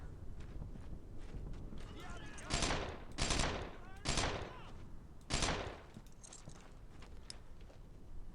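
Gunfire in the WWII shooter Brothers in Arms: Earned in Blood: several loud, sharp bursts of machine-gun fire crack out a second or so apart over a background of battle noise.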